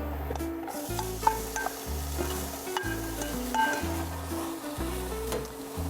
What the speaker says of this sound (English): So we're gonna start by adding a couple of tablespoons of olive oil. Saute your onions.